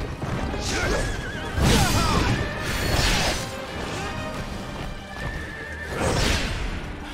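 A horse neighs and whinnies repeatedly in the video game Wo Long: Fallen Dynasty, loud, close bursts mixed with combat clashes and mechanical clanks, no talk heard.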